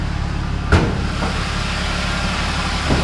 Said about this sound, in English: Idles so well. It's very quiet.